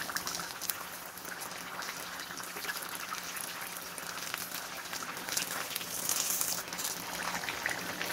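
Chicken cheese kebabs frying in oil in a home kitchen, a continuous soft bubbling crackle with scattered pops, moderately quiet and steady, with no talking.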